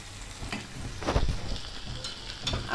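Garlic cloves frying lightly in a pan for a mango and garlic pickle, a soft sizzle with a few scraping stirs and clinks, close and steady, with no talk.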